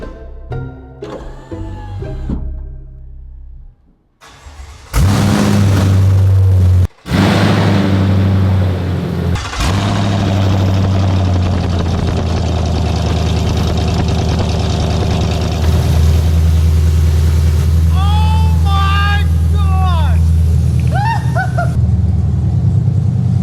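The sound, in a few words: Chevrolet Silverado truck engine running with open headers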